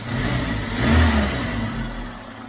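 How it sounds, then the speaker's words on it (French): A 1974 Renault R16 TS engine revs up smoothly, the tone rising to a peak and then easing back to a steady, even running note, close and loud with no talking. "Un bon bruit de moteur d'R16."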